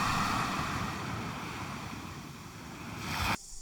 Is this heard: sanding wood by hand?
no